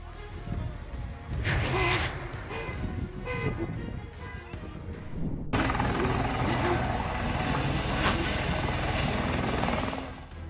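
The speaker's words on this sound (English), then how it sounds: "A helicopter malfunctions and crashes during landing near a riverside restaurant in Clay Township, Michigan." A helicopter malfunctions and crashes while landing near a riverside restaurant in Clay Township, Michigan, heard as a loud rotor and engine roar with sharp bursts and surges. Shouting voices and a car horn sound over it.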